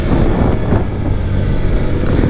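A 2022 TVS Apache RTR 160 4V Special Edition motorcycle holds high revs on the move, a loud, dense engine roar mixed with heavy wind buffeting that stays fairly constant throughout the short stretch.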